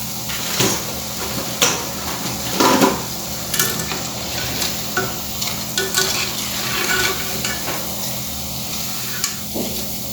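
Onion pakoras frying in hot oil, a continuous soft sizzle with occasional stirring clatters and scrapes at irregular intervals, close and moderately loud with no talk.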